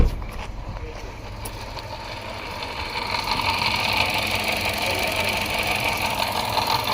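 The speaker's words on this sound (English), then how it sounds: "Even just off idle. See, now it's misfiring." A 2014 Chevrolet Cruze 1.4L engine running just off idle with a misfire, giving a steady, uneven mechanical rumble that swells slightly partway through.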